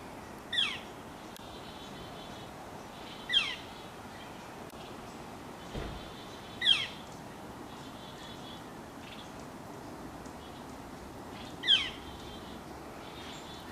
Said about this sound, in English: Got some bird action.